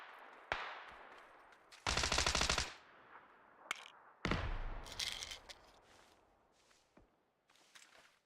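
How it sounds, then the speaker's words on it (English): Gunfire aimed at the player in the PUBG battle royale game: a sharp single shot, then two loud automatic bursts separated by quieter stretches with scattered isolated cracks and faint footsteps. "The one shooting at me is an AI bot."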